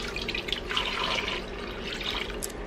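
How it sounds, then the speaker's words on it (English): Half a gallon of water pours into a big cooking pot for a corned beef brine, a steady close splashing and gurgling stream that runs throughout with no talk. "I'm gonna add a half a gallon of water."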